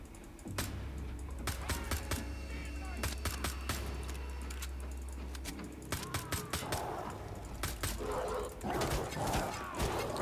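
A dog barks in the first-person shooter Wolfenstein The Old Blood, yips and barks tangled with bursts of gunfire and dense game noise, while a person talks over the action.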